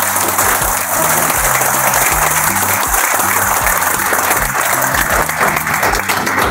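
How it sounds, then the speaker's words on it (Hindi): Enthusiastic audience applause at a business seminar, a dense sustained wall of clapping from a large crowd, loud and continuous with no speech over it. "आप एक बार लास्ट यानी शानदार वाली क्लैपिंग करेंगे और मैं शानदार वाली क्लैपिंग।"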